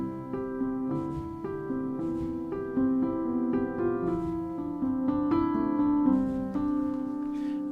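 A Native Instruments Una Corda sampled piano played very softly in its normal setting, a gentle, slow phrase of overlapping chords and single notes with a warm, muted tone and a soft, steady level throughout.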